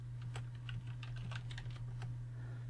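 Typing on a computer keyboard during a PC browser tutorial, a quick irregular run of soft, close key clicks over a steady low electrical hum.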